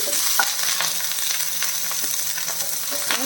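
Finely chopped garlic and curry leaves fry in a pan for a snake gourd dish, a dense, close sizzle with repeated light scrapes of a spoon stirring through it, and no talking.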